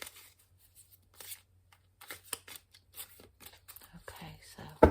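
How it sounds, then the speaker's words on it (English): Oracle cards from a fantasy deck being shuffled overhand, giving soft, irregular papery slides and flicks that come close and quiet, with a louder snap at the end. "So I do the overhand shuffle."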